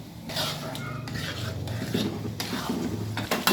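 Spoon stirring yogurt into fried spice masala for fish curry in a pan, a steady scraping and rubbing against the pan with faint clinks and a soft sizzle underneath, close and moderately loud throughout.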